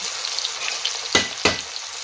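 Soaked chana dal fries in a pan for tamarind pulihora, a steady close hiss with two louder stirring scrapes near the end, no talking.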